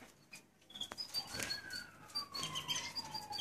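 Small canary chicks in a nest give thin, high chirps and tweets, scattered and then more continuous, with one long rising whistle-like call partway through, heard close up under a soft room hiss.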